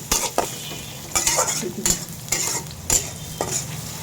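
Onion, chili and garlic frying in a pan, a steady sizzle broken by repeated scraping stirs of a spatula against the pan, up close with no talk.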